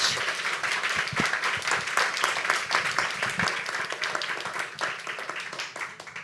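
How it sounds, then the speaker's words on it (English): An audience at a panel discussion applauds steadily, a dense wash of many hands clapping that holds for several seconds and fades slightly toward the end. "Can we give them a round of applause?"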